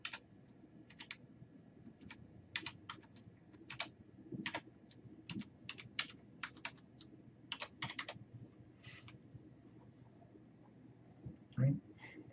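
Steady clicking keystrokes on a computer keyboard as a result is entered into Sage math software, fairly close and quiet, in short irregular bursts with pauses, a soft thud near the end and faint background hum.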